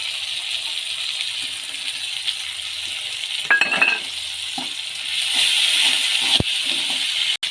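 Onions sizzle steadily in hot oil as salt, green chili, ginger and chopped tomato go into the pan, with a continuous close frying hiss broken by a few spoon scrapes and clinks against the pan.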